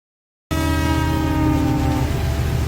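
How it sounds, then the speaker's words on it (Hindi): A train horn sounds after a brief silence and holds a loud, sustained chord that echoes, its tone shifting slightly partway through before continuing to ring out. "दूर गूंजता ट्रेन का हॉर्न"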